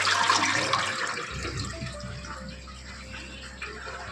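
Rice is washed with water at close range: a splashing, pouring rush at first that settles into a quieter trickle and slosh.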